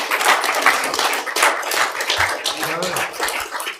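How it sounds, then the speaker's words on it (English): Scattered clapping rises from the audience at a city council meeting in Rock Springs, uneven and fairly close, with a few voices murmuring underneath. "Now you can clap."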